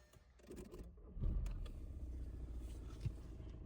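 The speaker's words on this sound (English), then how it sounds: "let me know if you ever seen a car being started like this." An Opel Astra being started: a cranking whir builds up, then the engine catches with a louder burst and settles into a steady idle, heard close with a small knock near the end.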